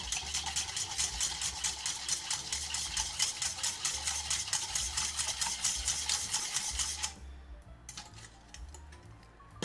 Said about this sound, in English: Whisk it together and set it aside